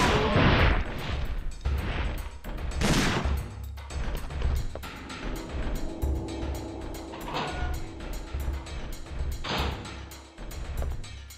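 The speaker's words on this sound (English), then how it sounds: "Different kinds of explosion or something." Explosions from the video game Dino Crisis 2 erupt as several loud booming blasts with crashing bursts. Quieter rumbling and clattering game effects fill the gaps between the blasts.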